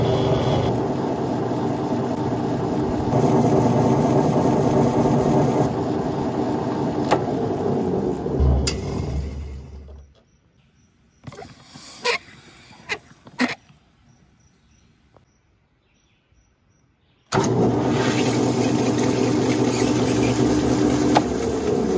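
A homemade chicken plucker's motor runs loud and steady on a test run, cuts out into near silence with a few sharp knocks, then starts up again at full, constant level.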